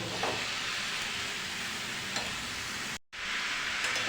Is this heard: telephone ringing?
no